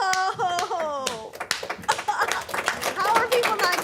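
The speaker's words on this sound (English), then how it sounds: "they're clapping" Scattered clapping breaks out in a courtroom during a sentencing hearing, uneven bursts of hand claps mixed with murmuring voices and talk nearby.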